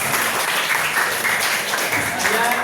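A class claps for itself in an Indonesian-language lesson, a dense, even patter of applause lasting a few seconds with a voice faintly underneath.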